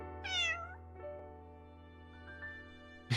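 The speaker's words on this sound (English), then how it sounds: "The cat in the painting seems to agree with Hecate" A cat meows once in the Path to Nowhere video game, a short rising-and-falling call over a steady background music bed, with a brief sharp sound at the end.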